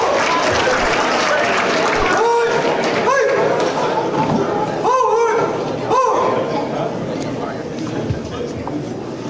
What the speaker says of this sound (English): We want to give another hand clap to North Explorers